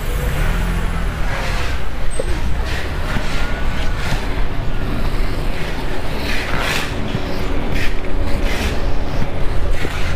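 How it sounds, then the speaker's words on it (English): Busy street traffic in a Chinese town, a continuous loud roadway roar of cars, buses and trucks with passing swells and a brief air-brake hiss, no clear talk. "Traffic over there."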